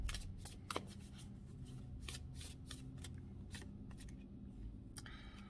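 A deck of tarot cards is shuffled by hand, with quiet, close riffling and crisp flicking snaps in a rapid, uneven rhythm.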